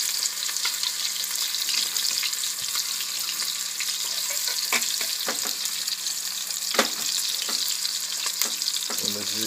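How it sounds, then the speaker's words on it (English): Chicken and apple patties fry gently in a pan with a steady bright sizzle, punctuated by a few soft clicks and taps of handling. "This is a gentle fry. Want that to harden."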